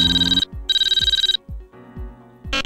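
A mobile phone ringtone plays in repeated loud, bright electronic bursts with a pulsing synthetic pattern, close and alone, in a road-safety announcement about using a phone while driving.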